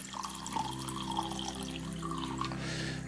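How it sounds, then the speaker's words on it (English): Water poured into a beaker over dried arame seaweed to soak it, a close, steady gurgling pour with rising fill tones over a faint background hum. "So I'll just give it some water."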